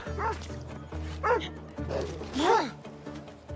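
A dog in Assassin's Creed Odyssey gives several short yipping barks and whimpers spaced a second or so apart while attacking, loud and close, with a steady low game drone underneath.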